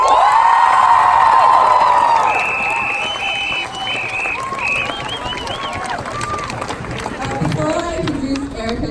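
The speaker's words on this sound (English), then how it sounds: "let's give a cheer if you demand climate action from our government." Crowd at an outdoor climate action rally cheering and applauding loudly, a sustained roar of claps and whoops with children shouting, with voices and some chatter underneath.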